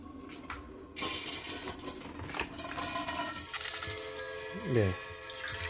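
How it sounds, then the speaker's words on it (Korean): Water running out through the opened valve of a water purifier filter into a container, a steady splashing trickle with clinks and handling noises, someone talking over it. "물이 나오고 있죠."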